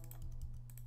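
Computer keyboard keys pressed to play notes in Logic Pro X, giving a few soft, quick clicks over a steady low hum, faint and close.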